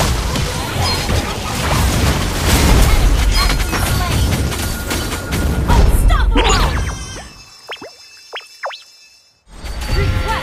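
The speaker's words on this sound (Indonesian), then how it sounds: "Your team destroyed the turret." A turret is destroyed in Mobile Legends, with loud booming crashes and dense battle effects, then a lull with short synthetic tones before the action resumes.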